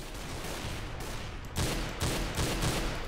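Several bursts of gunfire in the CS:GO Arms Race mode, a sustained muffled volley with three louder reports near the end, moderately close and without talk.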